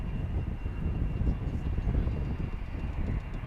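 A fixed-wing airliner taking off at Dallas/Fort Worth Airport, a steady low rumbling engine roar with a faint high whine, heard from a distance without talk.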